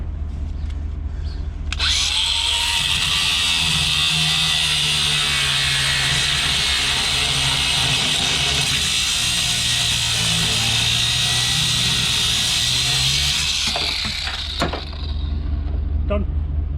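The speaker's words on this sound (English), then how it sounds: "So I'll just have to cut it off with the angle grinder." An angle grinder cuts steadily through a long nut on the back of a damaged sign, a loud continuous high whine lasting about twelve seconds, then winding down.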